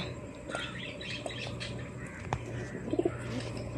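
Pet pigeons being fed in the evening give soft, low cooing calls, with a short cluster of coos standing out over a steady background hum and faint chirps.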